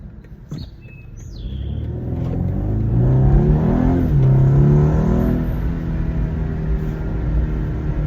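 A 2023 BMW 230i's engine revs high after a downshift in Sport Plus, a loud, droning rumble that climbs and holds its pitch as the car accelerates toward 60 mph, heard from inside the cabin with faint chirps above.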